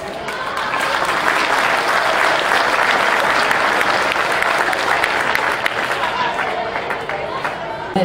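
Loud, sustained applause from a crowd at a Mexican deputy's first annual report event, dense clapping that continues steadily for the whole stretch with faint chatter mixed in.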